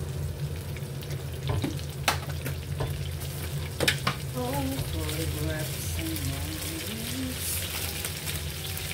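Garlic fries in a pan for pork igado, a dense continuous sizzle with scattered stirring clicks and a voice speaking briefly partway through.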